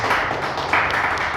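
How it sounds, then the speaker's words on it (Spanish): Congregation applause during a church service: a dense, steady wash of many hands clapping together, fairly loud and continuous for the whole short stretch. "dame un aplauso a Dios, por favor"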